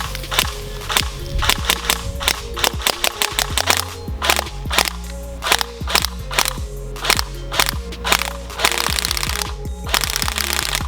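An Elite Force H&K G36C electric blowback airsoft rifle fires BBs in a steady string of sharp, close, snappy reports, with single shots and short bursts separated by brief gaps.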